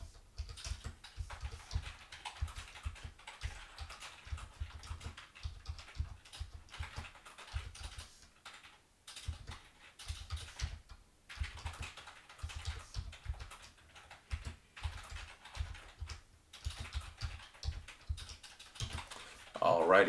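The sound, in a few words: typing on a computer keyboard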